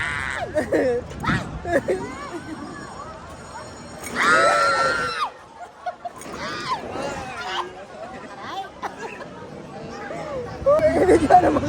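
People scream and shriek on an amusement park ride by a bay, with crowd chatter and a loud burst of group screaming midway, voices close and overlapping throughout.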